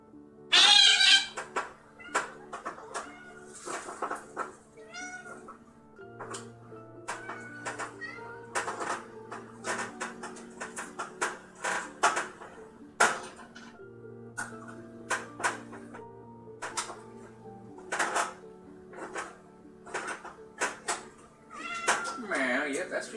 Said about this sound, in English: Meow, yep, that's for you, kitten.